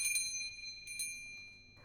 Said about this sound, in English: A faint tinkling of a bell sounded as we opened the door.